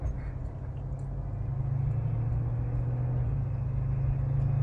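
A 1969 Ford Mustang Mach 1 engine idles with a deep, steady rumble that swells slightly partway through, close by, with no talking.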